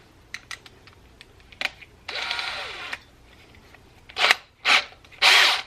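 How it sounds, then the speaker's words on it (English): A drill fitted with a wire wheel scrubs rust off the body of a Subaru WRX in several short, harsh grinding bursts, close and loud, between quiet clicks and handling noises. "now that we have the drill with the wire wheel on it, we're gonna go ahead and try to tackle some of this rust"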